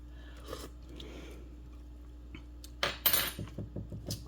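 Spoon scraping and clinking against a pot of spicy sausage and potato soup, then a burst of metallic taps and soft slurping close up, faint and intermittent.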